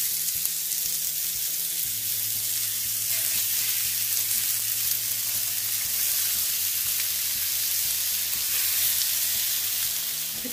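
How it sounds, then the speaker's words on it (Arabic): Escalope sizzling steadily in a hot pan while cooking for Tunisian kaftaji, a loud, continuous frying hiss close up with no talking. "نحط سكالوب نتاعنا باش نشويه"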